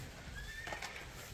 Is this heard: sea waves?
no